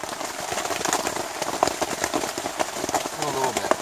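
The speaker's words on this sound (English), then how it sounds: "it commenced to raining again." Rain pattering steadily on a surface, dense and close, with light irregular taps and faint background voices.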